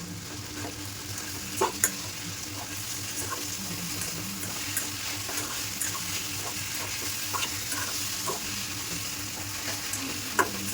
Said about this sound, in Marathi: अंडी झाली की फ्राय करून घालून घ्यायची. ती कशी तेलामध्ये फ्राय करून घ्यायची.